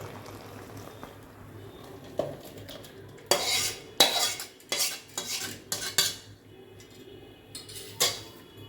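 A cooking pot of boiled bottle-gourd greens and lentils lifted off a village stove, with a run of sharp metallic clanks and scrapes of utensils against the pan between quieter stretches.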